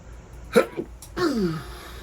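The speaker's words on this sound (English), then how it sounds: "Sneeze." A single sharp sneeze bursts out, followed by a brief trailing vocal sound, close and fairly loud against a quiet background.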